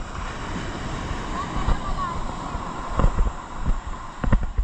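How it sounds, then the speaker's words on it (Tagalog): Strong ocean waves break on the beach at Botolan, Zambales, a continuous churning roar with heavy wind buffeting the microphone and surges of surf, while voices sound faintly in the background. "Guys, ganito kalakas ang alon."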